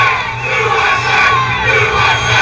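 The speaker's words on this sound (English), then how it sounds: "The crowd starts to chant for the former president as he leaves the stage" A large outdoor crowd at a Trump rally in Butler, Pennsylvania, on July 13 chants for the former president as he leaves the stage after being shot, a dense, loud roar of many voices with a steady, rhythmic swell.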